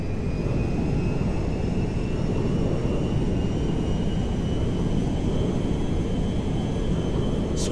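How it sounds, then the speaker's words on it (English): Jet airplane landing at an airfield in the GTA V video game, a loud, continuous roaring whine with a steady engine tone that holds throughout, with no talk. "On the Meriwether jet. We are now landing at Mackenzie Field."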